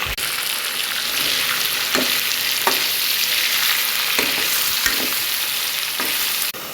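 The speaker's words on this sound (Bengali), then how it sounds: "ওইদিকে মুরগিটাও ভাজা ভাজা হয়ে এসছে দেখেন।" Chicken fries in a pan with a paste of ginger, garlic and onion, giving a loud, continuous sizzle. Scraping stirs land every second or so.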